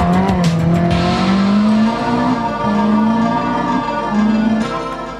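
Rally cars arriving at the finish of the 1991 Galway International Rally, a loud, close engine drone that rises and falls in pitch as the cars roll in, continuous with no talk.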